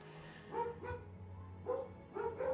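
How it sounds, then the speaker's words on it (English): Dogs indoors give several faint, short barks and yips in two separate clusters, with soft whimpering between them. "Excuse the dogs, they've been talkative."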